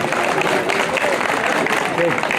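Hall applause greets a district governor invited to the podium at a public ceremony, a continuous dense clapping from a large audience that fills the space evenly, with some voices mixed underneath.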